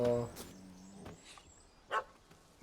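Puppy barking in Witcher 3, a few short yips and barks spaced apart, moderately faint, with a voice speaking briefly at the start.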